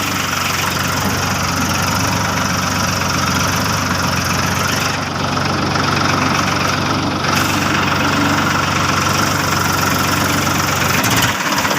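A tractor engine runs steadily throughout, a continuous low idling rumble with a knocking, vibrating mid-range tone, close by and loud with no talk.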